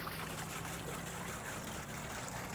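Liquid poured through a wide opening into a container of a Talos T60X drone, a steady soft trickling gurgle that runs continuously and fairly quietly.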